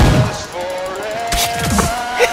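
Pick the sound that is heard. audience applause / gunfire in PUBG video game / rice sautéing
gunfire in PUBG video game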